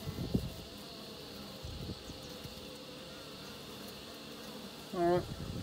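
Honeybees in a smoked hive during an inspection give off a steady, faint hum. A short, louder buzzing burst comes close by near the end.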